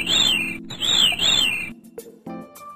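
A bird sings a clear repeated whistling phrase three times in quick succession, followed by a few short chirps and clicks.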